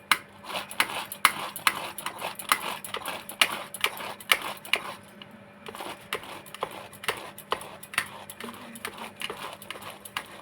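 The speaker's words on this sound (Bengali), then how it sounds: "বাকিটা গ্রেট করে নিচ্ছি" Ripe pineapple drawn over a hand grater makes a quick, regular run of rasping strokes that pauses briefly midway and then resumes, close and moderately quiet.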